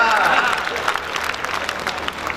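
An audience at a Hindi comedy poetry gathering in Behror, India claps together in a steady, moderate patter of applause with some voices mixed in underneath.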